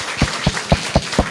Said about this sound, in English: Clap for yourself and let it be loud.